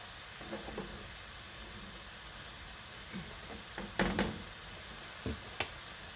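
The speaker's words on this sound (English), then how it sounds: "Stir our noodles a little bit." Noodles being stirred in a pan with garlic, a quiet background sizzle with a few scattered scrapes and knocks of the utensil, faint and close.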